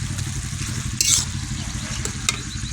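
Eggs from country chickens fry with shredded cabbage in a pan, giving a steady close sizzle with stirring scrapes and a brief louder hiss burst partway through.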